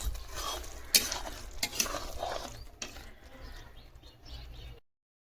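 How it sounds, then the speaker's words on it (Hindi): Sattu drink being stirred and mixed by hand, with irregular scraping and clinking strokes of moderate loudness that fade out into silence near the end. "इनकी दादी सत्तू बना रही है, सत्तू घोल रही है"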